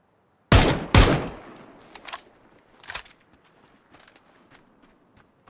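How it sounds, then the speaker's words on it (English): A VSS suppressed rifle fires in a shooter video game: two loud, close sharp shots in quick succession, followed by a few fainter scattered pops and clicks. "Is the bot still shooting a VSS?"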